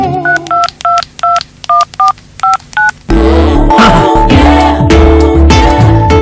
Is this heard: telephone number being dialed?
yes